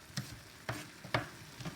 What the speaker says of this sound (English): you have lean beef and the sausage, start to cook it